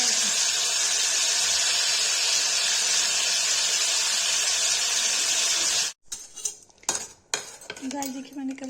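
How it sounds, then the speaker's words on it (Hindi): Chicken liver frying in a pan with salt for a Kashmiri kaleji curry, a loud, steady sizzling hiss for several seconds, then quieter clinks and scraping of a utensil stirring against the pan. "गाइस देखिए नमक डाल के फ्राई कर रही हूँ"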